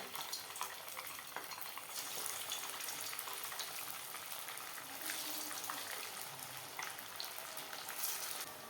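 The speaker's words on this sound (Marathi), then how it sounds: "आपलं आता तेल गरम झालेलं आहे तर एक एक मक्का टिकी आपण तेलामध्ये सोडूया" Corn tikki patties frying in hot oil, a steady bright sizzle with soft bubbling and crackle, fairly quiet and close, with no talk over it.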